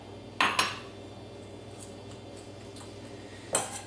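A cup of cooked brown rice is tipped into a bowl in a kitchen, giving two quick clinks of the cup against the bowl near the start and another knock a few seconds later, with quiet room hum in between.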